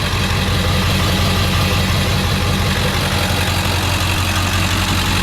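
A 1999 Ford F350 Lariat Super Duty diesel SuperCab dually with an aftermarket exhaust idling up close, a loud steady low rumble with continuous clatter and no voices.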